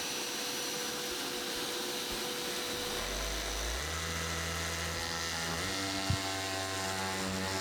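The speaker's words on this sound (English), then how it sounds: "Now I'm using drywall saw with a vacuum." A vacuum drones steadily over a harsh, buzzing drywall saw whine cutting a corridor ceiling. Partway through, a deeper motor hum joins in and holds, all close and loud.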